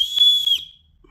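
A handmade wooden whistle, blown at a higher pitch, gives one bright sustained tone for about half a second, close and fairly loud, then cuts off into near silence.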